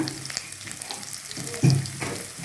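Ginger paste frying in a pan for a mixed vegetable labra dish, a continuous close sizzle with a few sharper crackles and one brief louder pop, no voices.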